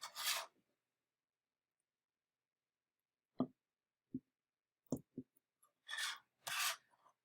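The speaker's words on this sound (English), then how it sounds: "now I'm going to take my angle cutters and start trimming away at this long wall" Angle cutters trim a plastic wall on a Freeplay Zero case: a rasping scrape, a few sharp isolated snips and cracks spaced a second or so apart, then two more scraping passes, all close and fairly quiet.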